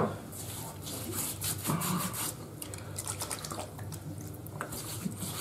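Warm water is poured over a tallow shaving soap to soak it, with close trickling and dripping sounds that run unevenly throughout, alone.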